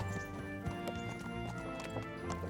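Horse hooves clopping with a whinny in Kingdom Come Deliverance, quick rhythmic hoofbeats close by over a steady tonal game background, with little talk.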